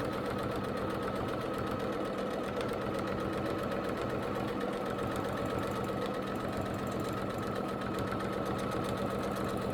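A sewing machine runs steadily for free-motion couching quilting, a continuous fast needle clatter with a mechanical hum, close and even throughout with no talking.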